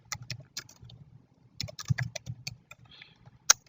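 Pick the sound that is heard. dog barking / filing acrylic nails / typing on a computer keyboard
typing on a computer keyboard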